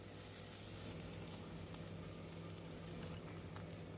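Two eggs added to an onion-tomato masala sizzle steadily in a hot pan over high flame, a dense, even frying hiss that stays constant and fairly close without any talk.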